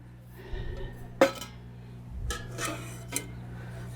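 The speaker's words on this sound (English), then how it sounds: "Now here's the other pot, and you can see the handle folds out like so." Metal camping cook pots and lids being handled, with a few sharp clinks and clanks spaced over a few seconds against a low hum, close by.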